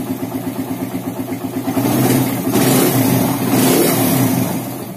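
A Suzuki Satria FU motorcycle engine runs close by, idling with a quick pulsing beat, then revving up in two or three loud swells before easing back.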